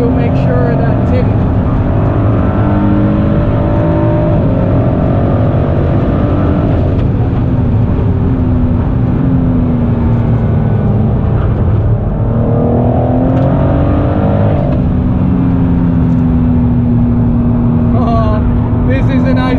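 A Ford GT sports car engine roars and revs under load on the Nürburgring, shifting pitch as it accelerates, with wind and road noise; someone talks over it at times.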